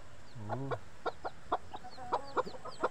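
A brooding hen and her three newly hatched chicks make sounds close by: a low hen cluck and warble, then a series of short, high chick peeps scattered across a quiet background.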